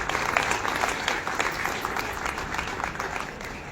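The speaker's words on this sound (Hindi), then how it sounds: "आज बच्चों के साथ अब उनके माता पिता के लिए जोरदार तालियां बजाएं" An audience claps steadily at a birthday event, honouring the parents, a dense moderate wash of many hands that holds even from start to end with no voices on top.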